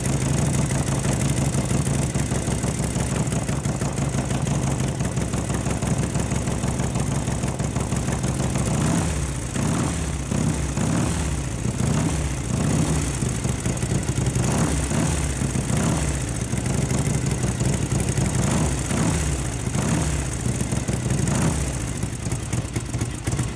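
A 1958 Harley-Davidson Duo Glide Panhead motorcycle idles steadily while warming up, a close, loud continuous engine rumble with uneven lumpy pulses that grow more pronounced partway through, no talking.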